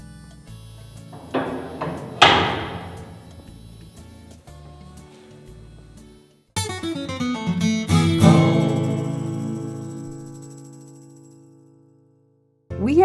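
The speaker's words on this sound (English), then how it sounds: "This is the locking mechanism that would lock and unlock all the cells." A jail cell door locking mechanism in a pioneer jail museum gives several loud metallic clanks, each followed by a ringing, slowly fading resonance, with quieter rattling in between.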